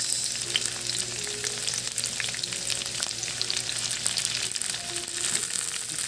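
Tomatoes tossed into bitter gourd sautéing in a pan, a soft constant sizzle with light crackling and occasional stirring clicks, fairly quiet and unbroken by talk.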